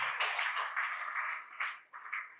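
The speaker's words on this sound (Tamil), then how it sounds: "கைதட்டுங்களேன்." Congregation clapping at a Christian revival camp in Chengalpattu, a fairly even burst of many hands that fades unevenly toward the end.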